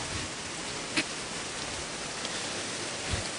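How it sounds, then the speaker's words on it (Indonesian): Steady rain hisses as a dense, even wash of noise with a few faint drop-like ticks, heard at night during a Ramadan religious gathering. "Hujan ya."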